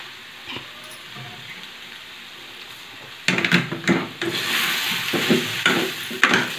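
Raw banana curry with salt and masala being stirred in a pan, a quiet low sizzle at first, then louder rhythmic scraping and stirring strokes of a spoon against the pan, close up with no talking.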